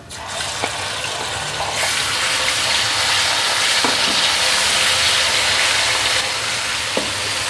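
Three tablespoons of garlic ginger paste fry in hot oil for a chicken degi biryani, giving a loud, steady sizzle throughout. Faint stirring clinks sound now and then.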